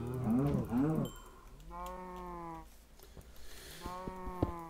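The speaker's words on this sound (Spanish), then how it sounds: "¡Cuánta vaca!" Cows moo in the Minecraft video game, with a few long, drawn-out calls in sequence and quieter game noises between them.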